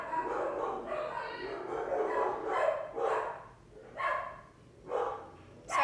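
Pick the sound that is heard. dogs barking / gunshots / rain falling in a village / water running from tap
dogs barking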